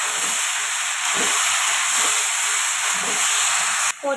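Flowers frying with whole garam masala in a little oil for a plum pickle give a loud, steady, close hiss that holds without a break and cuts off abruptly at the end.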